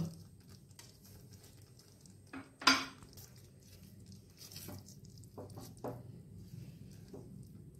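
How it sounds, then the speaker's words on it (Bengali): Egg korma being stirred in a pan after garam masala is added: scattered soft scrapes and clinks of a utensil against metal, with one sharp, loud clank near the middle, in an otherwise quiet kitchen. "গরম মশলার গুঁড়ো দিয়ে আবার ভালো করে মেশাবো"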